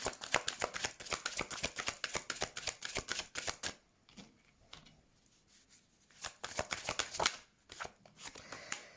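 Oracle cards are shuffled and drawn close up in rapid riffling bursts, pausing briefly before another flurry of shuffling and a few soft card snaps.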